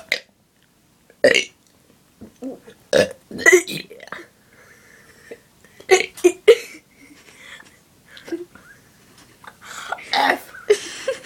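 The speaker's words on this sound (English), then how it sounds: "burping the alphabet." Two people take turns burping out the letters of the alphabet, a series of loud, croaky belches spread across the stretch with short gaps, each shaped into a letter sound.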